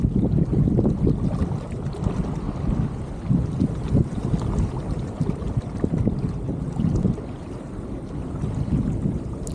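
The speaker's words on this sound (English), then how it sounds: "So the boat's moving really nice here." A sailboat under new custom sails moves along in the wind. Steady wind buffeting and rushing water hiss continue without pause, loud and close, with no talking.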